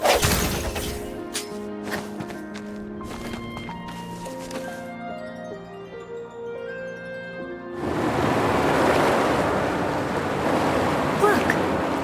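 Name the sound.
waves and water receding, from the video game Wuthering Waves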